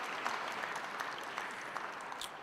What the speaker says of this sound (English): give your parents and guardians a big, big round of applause